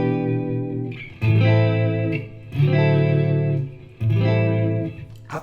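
Squier Classic Vibe 60s Jazzmaster electric guitar, played through effects and run into a Polytune, rings out three sustained strummed chords, each swelling in and holding for about a second, loud and close with a wash of reverb and chorus.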